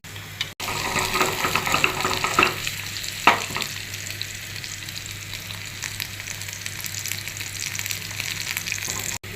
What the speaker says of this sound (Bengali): পেঁয়াজ রসুন এটা লাল করে ভেজে নেব